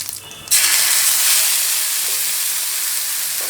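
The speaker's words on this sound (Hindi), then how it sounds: "प्याज को हमें अच्छे से भूनना है" Onion paste hits hot vegetable oil with bay leaf, cardamom, cloves, cinnamon and shahi jeera in a kadhai, bursting into a loud, sustained hiss after a brief quieter moment, then sizzling steadily and close without any speech.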